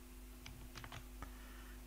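Faint keyboard typing, a handful of quick clicks clustered together and then one firmer keypress like Enter, heard close over a steady low electrical hum.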